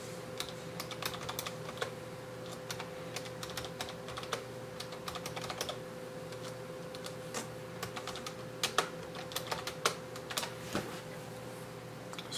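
Someone types a program on a PS/2 computer keyboard wired to an RC2014 retro computer, with quick irregular key clicks and a few heavier strokes, close and quiet over a steady electrical hum, no voices.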